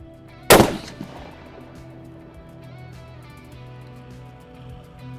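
A single loud, close rifle shot from a Savage Axis XP chambered in 6.5 Creedmoor, a sharp crack followed by a long decaying rumble of echo, with no talking.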